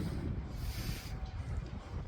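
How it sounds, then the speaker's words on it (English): Cold wind blowing on a dark Sunday night at an outdoor train stop in Gdansk, a steady broadband rush and buffeting against the microphone with no voices. "it's windy and it's cold"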